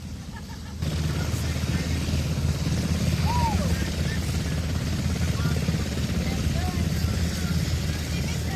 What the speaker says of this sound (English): got a great video of CAL FIRE's chopper that landed on a little shore area to pick up some ground crews